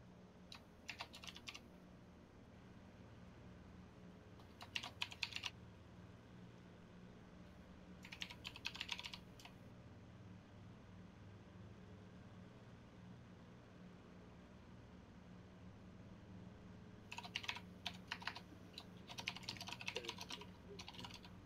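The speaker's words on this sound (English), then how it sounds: "Intense typing." Short bursts of rapid, intense clatter on a computer keyboard recur over a faint steady hum, with several seconds of quiet between each flurry.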